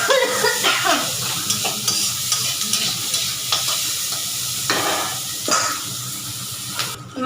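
Chopped onion and green chilli frying together with fish in a pan, a steady close sizzle broken by repeated scraping stirs, with no voices.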